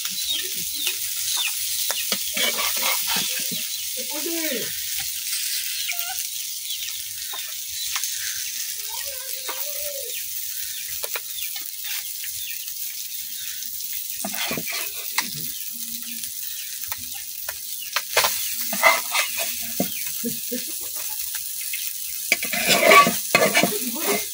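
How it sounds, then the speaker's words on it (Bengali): Fried fish is stirred and lifted from a hot pan: continuous sizzling with scraping utensil strokes and clatter that grows busier near the end. "আমার মাছগুলা কিন্তু ভাজা হয়ে গেছে, এখন আমি উড়াই লইতেছি"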